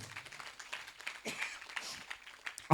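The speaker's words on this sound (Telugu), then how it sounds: "కొట్టు చప్పట్లు కొట్టు" A congregation claps hands during a Telugu Christian worship service, a faint, scattered patter of claps that rises and falls over a few seconds without any clear speech.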